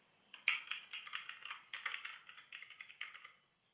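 Fingers type a short message on a computer keyboard: a quick, close burst of soft key clicks in uneven rhythm, lasting about three seconds before stopping.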